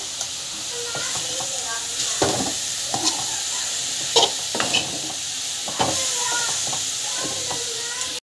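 Tomato, coriander, mint, asafoetida, salt and chilli powder stir-fried together in a pan, with a steady close sizzle and hiss broken by repeated scraping stirs and spatula knocks.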